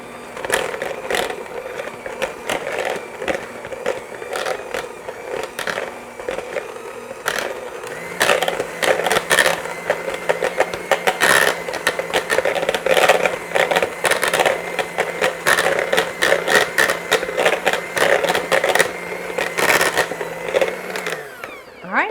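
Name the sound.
hand mixer mashing sweet potatoes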